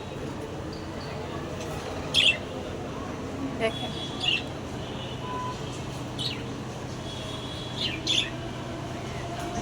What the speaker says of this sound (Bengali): ছেলে পাখিটা করতেছে এরকম